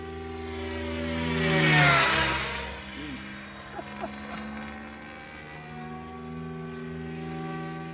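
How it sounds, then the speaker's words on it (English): A 6S 3-inch FPV drone carrying a GoPro Session 5 whines past, its motor pitch swelling loud near the middle then settling into a steady buzzing hum at a distance. "that is my video flying a 6S 3-inch model with a GoPro Session 5 strapped to it"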